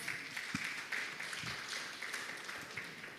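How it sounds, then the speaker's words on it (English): Quiet, steady applause from a conference audience at an international biotechnology conference at Universitas Islam Malang, a soft, distant wash of many hands clapping with no talking. "Kindly give the round of applause."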